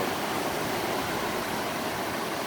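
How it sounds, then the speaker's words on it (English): River rushing through a narrow, deep gorge in Minnesota, a dense, steady roar of flowing water heard close and loud without pause. "this is quite the river. It's a very narrow but deep gorge that the river has cut into."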